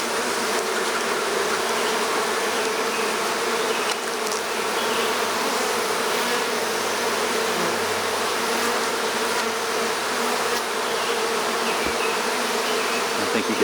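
Dense, continuous buzzing of many bees close by at a top bar hive inspection, a steady droning swarm with no talking.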